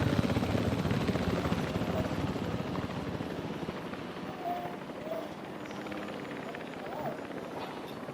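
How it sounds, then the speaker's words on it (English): Helicopter in a video game flying steadily, a broad continuous rotor and engine roar that fades slightly after the first few seconds, with no talk over it. "Attention personnel, please stand by for the returning helicopter."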